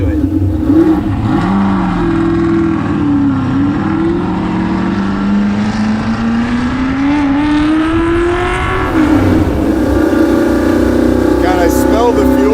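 A Shelby GT350 screams through canyon roads, its loud engine note rising and falling as revs climb and drop between shifts, heard close and continuous throughout.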